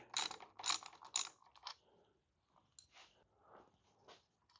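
Ratchet clicking as a mirror is loosened on a 2008 Harley Davidson Heritage motorcycle, a few loud close bursts of rapid clicks in the first two seconds, then quieter scattered tool and hardware clicks.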